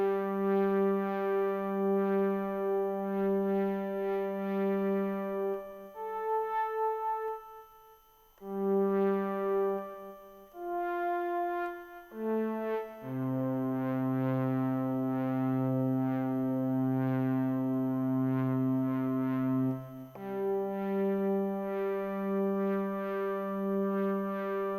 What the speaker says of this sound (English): adding some delay to that should make it interesting, because we'll hear those emphases being reiterated again and again